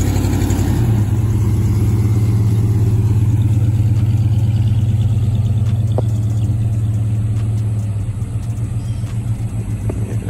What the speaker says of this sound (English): So I gotta get that little exhaust fixed